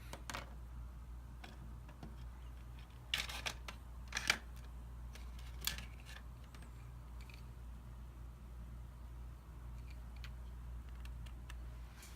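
Small Phillips #0 screws being backed out of a DJI Mavic remote controller during a modification: faint, sparse ticks and light scraping clicks, with a cluster of sharper clicks midway, over a steady low hum and no voices.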